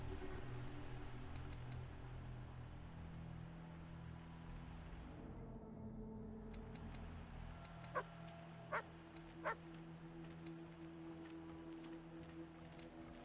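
Barking dogs inside an animal kennel in the Wasteland 3 video game, with several short, faint yaps and whimpers set over a low, steady game ambience and background hum.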